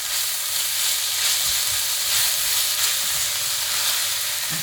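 Onions and garlic frying in a pan over high heat, a loud, continuous close sizzle with faint soft stirring bumps underneath.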